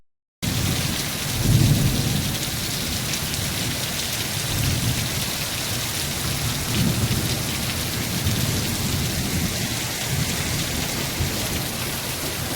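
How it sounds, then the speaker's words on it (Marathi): Heavy rain pours steadily in a dense hiss, with low rumbles of thunder rolling underneath, no voices. "बाहेर पाऊस, एवढा पाऊस आलाय ना, भरपूर असा पाऊस आलाय"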